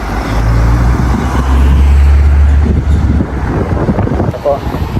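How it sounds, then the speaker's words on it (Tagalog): Steady road traffic rumbles on a street in Japan, with a constant low engine roar and wind buffeting the microphone. The noise is loud and close, with muffled voice-like sounds in the mix. "Ito po, traffic na naman ulit."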